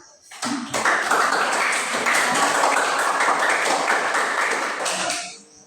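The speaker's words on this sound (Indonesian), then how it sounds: "Ya, tepuk tangan dulu." A classroom of students claps together in a dense burst of applause that starts abruptly, holds steady and loud for several seconds, then fades out near the end.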